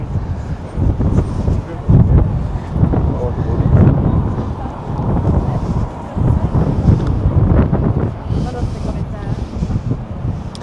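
Steady wind buffets the microphone in low, rumbling gusts throughout, with faint voices underneath, outdoors among old wooden buildings in Bergen, Norway.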